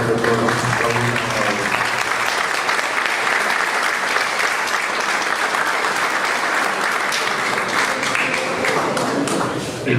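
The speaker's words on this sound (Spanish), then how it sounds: "Realizarle nuevamente un merecido y fuerte aplauso por todos." Dense, sustained applause from a large audience at a bar association ceremony, steady and loud throughout with no pauses.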